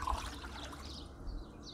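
Water trickles steadily through a pumped filter, a soft continuous liquid dribble with no voices.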